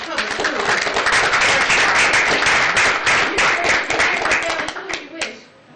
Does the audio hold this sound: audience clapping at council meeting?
yes